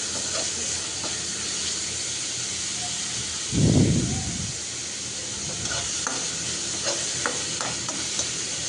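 Chopped onions hit hot oil in a pan just used to fry fish, giving a steady close sizzle with a brief louder burst of frying and some stirring scrapes, without talk.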